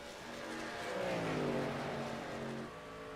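Race trucks from a horsepower truck series sweep past on an oval track in Texas, engines rising and falling in pitch as they pass at a distance, a smooth swelling roar that fades away without talk.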